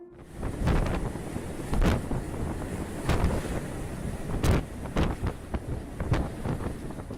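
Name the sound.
storm winds and huge ocean waves around a ship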